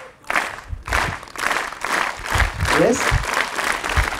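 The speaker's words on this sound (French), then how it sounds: "reprenez les applaudissements rythmiques, s'il vous plaît" Audience at a live science talk in Montbazon claps in a steady rhythmic beat, loud and close, with a speaker's voice talking over the clapping.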